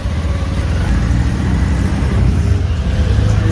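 An auto rickshaw engine runs during heavy Mumbai rain, a loud, close, steady low rumble with a slightly rising throttle and no speech.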